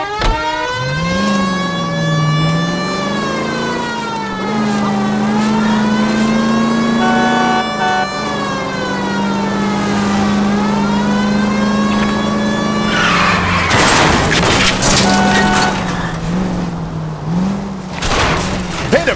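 A car engine revs and drives hard through an L.A. Noire chase, a steady tonal whine rising and falling with gear changes, joined late by skidding tires and rougher bursts of noise.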